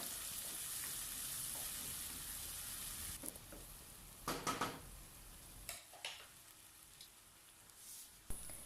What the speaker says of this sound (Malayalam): ഇനി നമുക്കിതിലേക്ക് നമ്മൾ നേരത്തെ മാറ്റി വെച്ച ബീഫും മസാലയും കൂടി ഇട്ട് കൊടുക്കാം നന്നായിട്ടൊന്ന് വയറ്റി കൊടുക്കുക